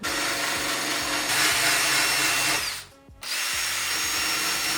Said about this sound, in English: grind away some rust